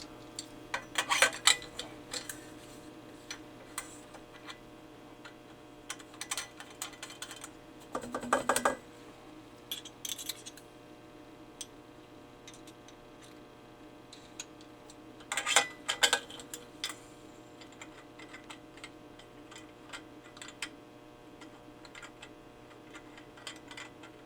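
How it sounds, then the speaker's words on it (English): Piston valves of a brass instrument are worked, giving sparse light mechanical clicks and small clusters of taps against a quiet room hum, with no talk. "So we had a clicky first valve, now we're going to have a clicky second valve"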